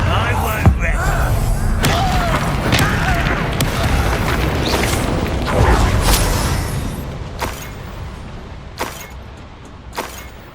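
A Bombarda spell explosion in Hogwarts Legacy on PS5: a heavy, booming blast with crackling debris and rumble, followed by several sharp thuds and impacts that gradually thin out.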